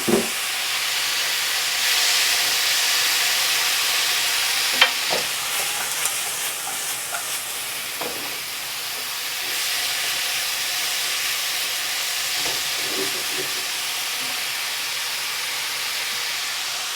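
Green vegetables stir-frying with nearly cooked pork in a pan for an Asian-style stir fry: a steady, moderately loud sizzling hiss runs throughout, broken by occasional soft clinks and scrapes of stirring.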